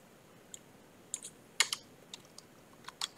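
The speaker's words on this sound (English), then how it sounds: "as I'm typing" Sparse, irregular keystrokes on a computer keyboard, a dozen or so sharp close clicks spread over a few seconds against a quiet room background.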